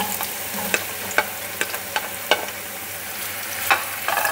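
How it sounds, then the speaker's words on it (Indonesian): Garlic and onion fry in hot oil with a constant close sizzle, broken by several sharp clicks and scrapes of a utensil against the pan at an irregular pace, with no voices. "Setelah minyaknya panas, kita masukkan bawang putih dulu. Lalu kita masukkan bawang bombay."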